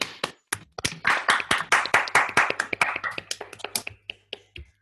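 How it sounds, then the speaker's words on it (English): Scattered hand claps from an online audience thanking a speaker after a mathematics talk, about two dozen distinct sharp claps in an uneven rhythm, close and fairly loud, thinning out toward the end. "If you want to unmute yourself, feel free to clap."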